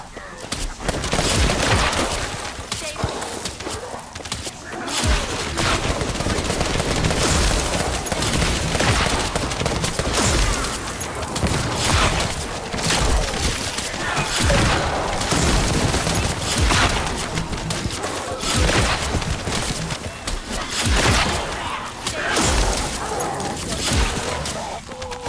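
Dense, sustained gunfire from the sci-fi shooter The First Descendant, rapid bursts and volleys crackling almost continuously at high loudness with scattered speech mixed in.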